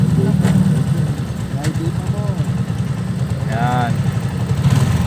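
Motorcycle ridden toward Angeles in Pampanga: a low, steady engine drone throughout, nearby and constant, with someone talking over it.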